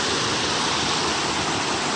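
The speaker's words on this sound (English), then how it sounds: "Got a waterfall over here." A waterfall on the Appalachian Trail near the 100 mile wilderness, swollen with extra water on a gloomy day, gives a steady, dense rushing roar that stays loud and unbroken throughout.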